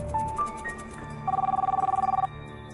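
A telephone rings with a steady electronic trill lasting about a second, preceded by a few short beeps, heard in a room with a low background hum and no talk.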